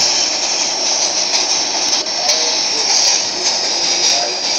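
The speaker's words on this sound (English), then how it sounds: "R62 3 train approaching Pennsylvania." A simulated R62 subway train on the 3 line pulls into Pennsylvania Avenue station in a game, a loud, steady rumbling roar with a high hiss and occasional clicks running without a break.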